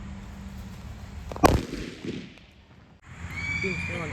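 A single loud Diwali firecracker bursts sharply nearby, then a muffled rumble follows, with background crowd noise and voices after.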